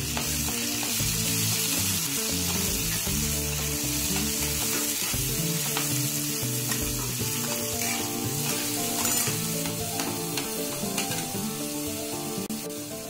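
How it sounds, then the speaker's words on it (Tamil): Tomatoes dropped into onions frying in oil for a Salem-style fish curry, a steady loud sizzle with stirring scrapes and clinks, no talk. "வெங்காயம் நல்லா வணங்கினோடனே தக்காளி சேர்த்திக்கலாம்."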